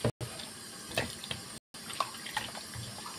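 Water splashes and runs into a cooking pot of frozen shabu-shabu meat nearby, with brief gaps and a few light clinks, at low volume.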